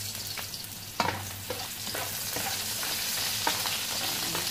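Ginger, cinnamon bark and star anise fry in a pan, giving a steady, close sizzle with a few sharp stirring knocks and crackles along the way.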